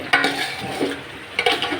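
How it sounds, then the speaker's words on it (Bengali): Chicken liver, bones, feet and a few pieces of meat fry on a low flame in a pan, a steady close sizzle broken by two loud bursts of spoon-scraping as the pieces are stirred. "গোস্তটা ভাজা হচ্ছে একদম ডিম চুলাতে একটু পরপর নেড়ে দিচ্ছি"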